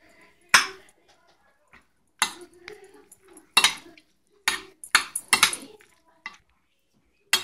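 Potato filling stirred with salt and black pepper in a bowl, giving irregular clinks and scrapes of a utensil against the dish, in short separated bursts with quiet gaps between.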